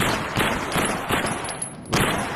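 Rapid FAMAS rifle fire in the AimXR video game, a quick string of sharp, loud shots close by, with no talking.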